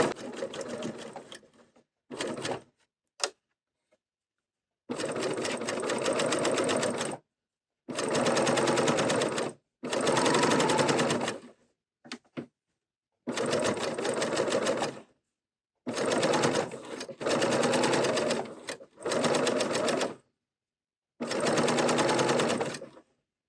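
A serger stitches a T-shirt neckline in several bursts of fast, steady whirring, each lasting a few seconds. Short pauses and light clicks separate the bursts, and the machine sounds close and clear, with no speech.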